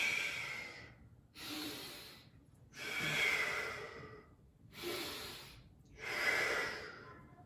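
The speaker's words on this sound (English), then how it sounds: "I'm just gonna breathe" Slow, deep breaths drawn during a yoga stretch for a tight IT band, five long airy inhales and exhales in a steady rhythm, close and fairly quiet with no talking.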